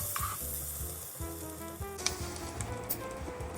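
Bread sizzles in melted garlic butter in a frying pan, giving a close, steady hiss scattered with small crackles and pops. No one speaks.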